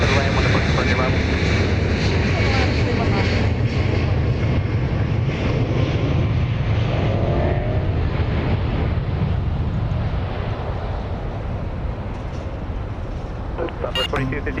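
A Southwest airliner lands on runway 31 left at Dallas Love Field, a loud continuous roar of jet engines and rushing air close by, easing slightly toward the end.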